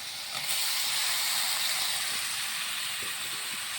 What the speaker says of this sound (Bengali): ডাঁটাটা একটু কষিয়ে দিলাম সুন্দরভাবে, কষিয়ে দিলাম।